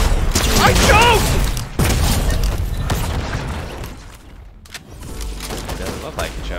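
Loud, close gunfire crackles in the shooter game Battlefield 2042, with dense bursts and booms at the start easing to a quieter rumble, and a player's voice talking over it.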